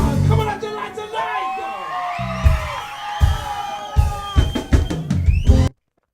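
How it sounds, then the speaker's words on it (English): Audience at a live reggae show cheers and whoops in bursts, with loud shouts and yells rising over the band's music before it cuts off abruptly near the end. "So I wanted to make sure I got some crowd noise."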